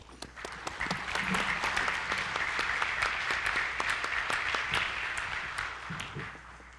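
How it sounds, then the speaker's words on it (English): Scattered clapping from a modest audience at a talk, fairly quiet and sparse, with individual claps standing out, rising briefly then thinning. "Let's give them a round of applause."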